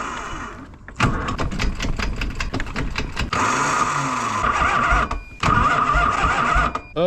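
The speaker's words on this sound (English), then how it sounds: "Okay, it does crank." A Harley Davidson motorcycle engine cranks over in a yard, with rapid rhythmic starter chugging that breaks into louder sustained engine bursts, cut by brief pauses, close and loud with no speech.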